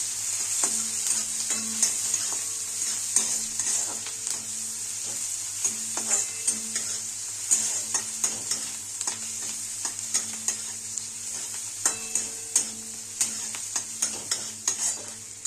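Chopped onion sautéing in an oily pan with a pinch of salt, a steady bright sizzle under repeated scraping strokes of a spoon stirring, close and continuous.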